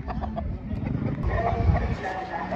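A Gilmore fighting rooster offered for sale at a cockfighting market in Padre Garcia makes soft, low clucks amid busy background chatter and general market noise.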